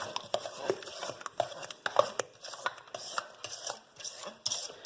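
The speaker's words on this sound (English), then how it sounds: "So right here, I'm just kind of like folding it in and mixing it at the same time." A spoon folds and stirs whipped cream for strawberries and cream, giving soft wet scrapes and light taps against a bowl in an irregular rhythm, quiet and close.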